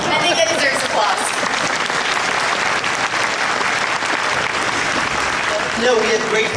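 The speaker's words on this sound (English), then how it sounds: "I think that deserves applause." A convention audience at a WonderCon film panel for Sound of My Voice breaks into sustained applause, with loud, even clapping from a large crowd throughout.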